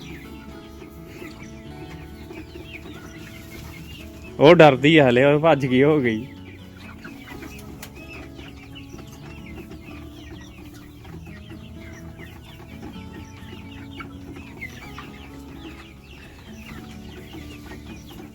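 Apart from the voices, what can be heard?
chickens clucking on a turkey farm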